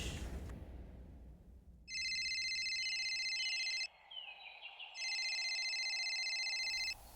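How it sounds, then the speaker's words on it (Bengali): A phone ringtone plays in two bursts of steady, bright electronic tones, each about two seconds long, separated by a short pause, with faint background noise. "বিশালের ফোনে তার মায়ের ফোন কল এসেছে"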